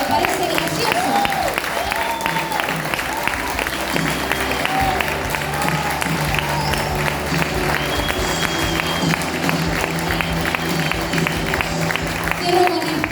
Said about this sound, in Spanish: ¿Cuándo le dan un aplauso al Señor?